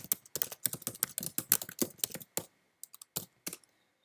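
Quick bursts of keystrokes on a computer keyboard while entering PHP code, rapid clustered taps for about two and a half seconds, then a pause and a few scattered final presses, close and clear with no talking.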